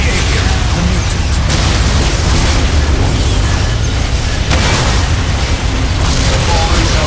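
A grenade goes off in the Warhammer 40,000: Dawn of War – Soul Storm video game, with Space Marines fighting on the Upper Wastes map. The blast merges into a loud, unbroken roar of battle noise lasting the whole stretch, with a voice faintly underneath.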